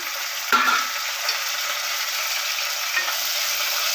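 Tomatoes sauté with ginger garlic paste in a pan, a steady soft sizzle and frying hiss close by, with one scraping stir near the start and another faint one later.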